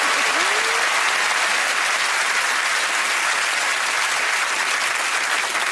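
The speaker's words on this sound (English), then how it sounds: "Let's give a round of applause." Steady, dense applause from a TV studio audience on a comedy chat show, loud and sustained throughout without a break.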